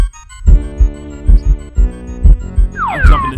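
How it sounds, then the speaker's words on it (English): A game character's heartbeat in Haunting starring Polterguy thumps loudly in a steady rhythm of deep double beats over a sustained synth hum, ending with a rising and falling electronic sweep. "Oh, you hear his heartbeat? That means he's starting to get scared."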